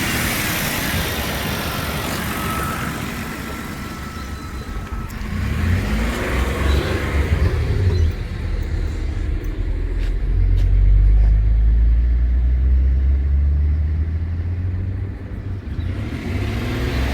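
A car engine running on dynamic engine cleaner starts up and settles into a steady idle. The rumble is close and continuous and swells in the middle as the engine revs slightly before easing back.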